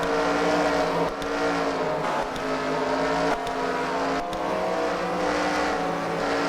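Race cars running in a heat race at a fight-night event at the Freedom Factory, a loud steady engine drone with layered harmonic whine that holds throughout and shifts slightly in pitch, no talking.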